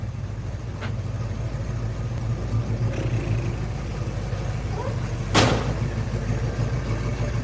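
A car engine with quad exhaust idles steadily with a low, even rumble, and a brief louder rev or knock comes through partway along.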